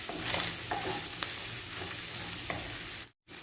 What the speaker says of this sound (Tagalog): Lagay natin yung ating hotdog. Haluin natin mga ka-recipe.